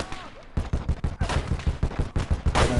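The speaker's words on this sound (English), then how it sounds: "Get that machine gun running." A machine gun in the video game Close Combat fires a rapid string of sharp, punchy shots in an uneven rhythm. The shots are loud and fairly close, with a voice faintly present underneath.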